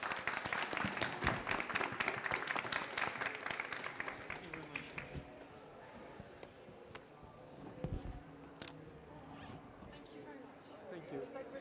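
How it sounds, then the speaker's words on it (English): Audience applause for conference panelists at the close of a session on new nuclear technologies and clean energy; dense clapping fills the first half, then thins into scattered claps and room noise. "please give thunderous applause to all the panelists"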